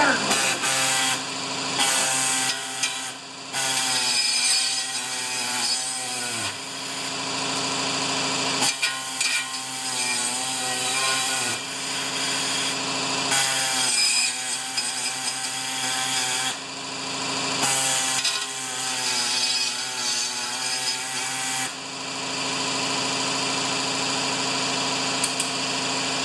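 Holes in a homemade snowblower scraper bar for a Toro are squared up with a power tool. The tool grinds loudly in repeated bursts of several seconds, with short pauses between them.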